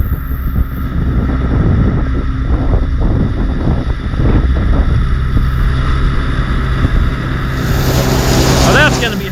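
A White 2-135 tractor idles along hauling silage wagons, a loud steady low engine drone with rattling gear-driven chains, and a brief voice passes over it.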